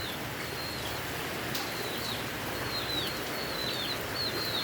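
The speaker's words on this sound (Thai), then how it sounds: "ฝนตก" Steady rain falls outdoors as a soft continuous hiss, while a bird's short chirps repeat faintly at intervals above it.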